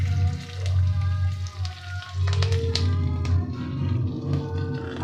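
Whole garam masala sizzles in hot ghee in a wok, a soft continuous crackle with light taps and pops over a low steady hum, close and moderately loud.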